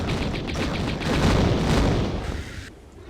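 Rapid gunfire in Tomb Raider as Lara shoots at a mummy in Atlantis, a dense, steady burst of booming shots that fills the clip before tapering off near the end.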